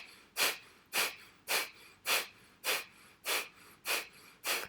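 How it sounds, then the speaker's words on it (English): Nine rapid, forceful breaths pumped in and out through the nose during yoga practice, each a sharp, airy snort at a steady, quick rhythm, close and clear with no talk. "start to pump out the breath in and out through your nose"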